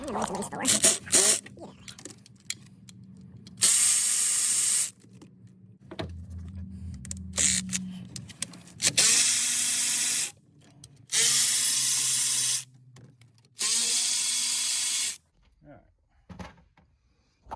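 A hand tool works loose the four 8 mm valve cover bolts on a GM 5.3/6.0/6.2 V8, with bursts of loud ratcheting clicks and hissing separated by pauses while someone talks nearby.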